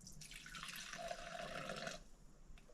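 Old mineral spirits pour from a child-proof bottle into a container, a close, quiet stream of liquid that runs for about two seconds and then stops.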